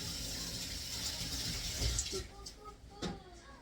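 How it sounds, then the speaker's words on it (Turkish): Water running from a tap as hands are washed at a home sink, a steady splashing rush that fades out, followed by a few clicks and brief voices. "Vallahi ellerimi yıkayayım geleyim."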